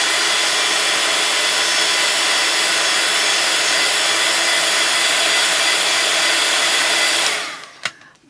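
A heat tool blows a steady, loud, even whoosh while warming a foamiran foam sheet for flower making, running continuously and then cutting off near the end, followed by a brief click.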